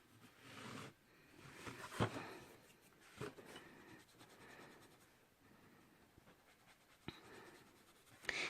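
Colored pencil strokes scratching across paper in a daily doodle notebook insert, with soft rubbing passes and a few sharper taps, close and quiet, with no voices.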